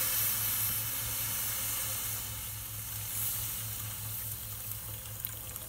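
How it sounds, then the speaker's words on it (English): A steady hiss and sizzle of hot water on aluminum foil, close and fairly loud, with a low hum underneath that fades slightly toward the end. "you could hear it sizzle on that aluminum foil"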